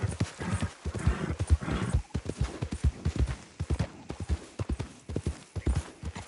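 Horse hooves clip-clopping at a fast gait in the video game Red Dead Redemption 2, a rapid rhythmic series of close, loud hoofbeats with an occasional whinny mixed in.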